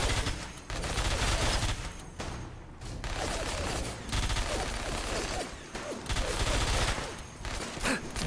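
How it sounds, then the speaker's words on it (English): Nail guns firing in Fallout 4 with the Sim Settlements 2 mod, heard as a steady run of rapid mechanical bursts. The volley is broken by a few short gaps. "Nail guns."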